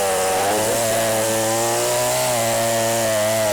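A loud chainsaw cuts wood steadily, its engine droning with a slight pitch wobble, close up and with no talking.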